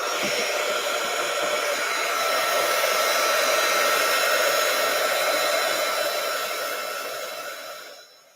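A hair dryer blows steadily and loudly at close range over mixed media paint, a continuous broadband roar that holds for about eight seconds before cutting off at the end.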